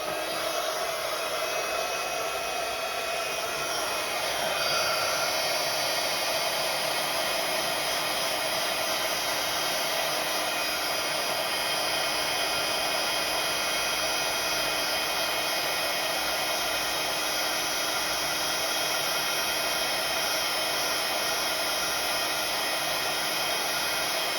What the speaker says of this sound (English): I'll just grab my heat gun and I will heat this up to set it